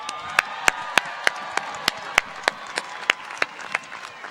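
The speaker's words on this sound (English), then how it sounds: "that's worth applause" Audience at the 2015 Cal Poly spring commencement ceremony clapping steadily, a dense patter of many hands punctuated by regular sharp accents, loud and sustained without voices.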